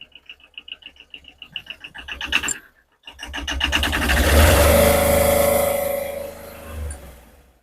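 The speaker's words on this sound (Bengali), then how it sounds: "ইঞ্জিনের সাউন্ডটা মোটামুটি ভালোই আছে দেখতে পাচ্ছেন" A Tata X2 pickup truck engine idles with a rhythmic pulsing, cuts out briefly, then revs up into a loud, sustained drone that slowly eases off, heard up close without talk.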